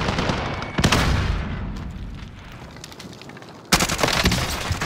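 Video game combat gunfire: dense bursts of automatic weapons fire break out near and loud, ease into a rumbling lull of distant shots, then erupt again in a sharp, heavy volley.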